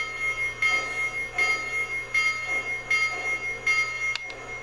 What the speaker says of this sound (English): So now let's turn on the bell.